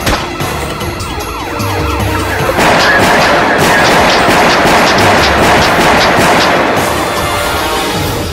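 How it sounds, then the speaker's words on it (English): Gunfire from a driver shooting at police during a night-time traffic stop in Summerville, South Carolina: a loud, rapid string of close shots over a wailing siren that runs throughout. "He got out of his vehicle and immediately started firing."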